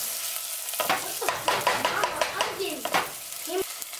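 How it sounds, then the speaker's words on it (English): Onions sizzle in a hot pan on the stove, a crackling fry broken by scraping stirs and a few clinks of the utensil against the pan, heard close and moderately loud. "it's frying really fast and you don't want the onions to"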